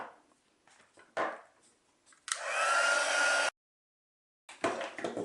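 A heat tool blows a loud, steady whoosh for about a second and a half, melting embossing powder on a Stampin' Up! card, after some soft rustling, then cuts off abruptly into silence before brief handling noise.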